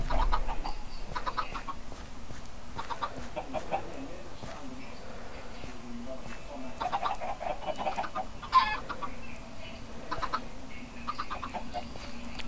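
Chickens cluck and squawk in Minecraft, a steady stream of repeated clucks through the whole stretch over a soft game background, with no talking.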